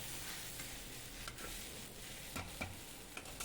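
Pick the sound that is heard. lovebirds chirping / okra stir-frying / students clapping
okra stir-frying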